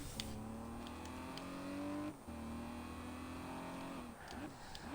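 A 2003 Nissan Fairlady Z engine revs hard in a Forza racing game, its steady rising drone dipping briefly around the gear change at two seconds before climbing again, loud and continuous throughout.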